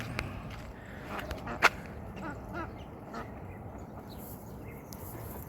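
Faint quacking from ducks in an open outdoor setting, a few scattered calls over steady background noise, one brief louder call.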